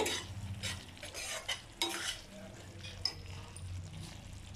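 Brinjal thokku stirred in a pan with onion and peanuts: soft scraping and wet shuffling strokes over a low simmering bubble, close and quiet, with faint background murmur.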